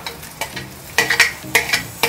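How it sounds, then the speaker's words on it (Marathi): Onion and curry leaves fry in oil in a pan for a prawn masala, with a steady low sizzle broken by repeated scraping, clinking stirs of a spoon, fairly close and loud, with no talk. "कांदा आणि कढीपत्ता घातलाय"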